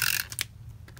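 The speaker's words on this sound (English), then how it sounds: "I am just going to tape the pages down" A Tombow Mono permanent adhesive tape runner rolls tape along paper planner pages with a brief close clicking, ratcheting rasp in about a second of quiet.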